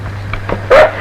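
A police dog gives one sharp, loud bark close by after a few soft sniffs and whimpers, set in a comedy scene.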